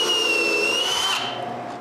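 A power drill drives screw holes into wood for an edge sander build, giving a loud whining whir with a steady tonal pitch that cuts off partway, leaving a fading spin-down.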